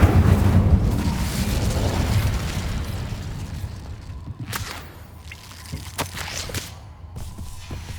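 A fire spell burst in the Hogwarts Legacy game, a loud whooshing blast at the start that fades into crackling, with scattered sharp pops and snaps trailing off afterward.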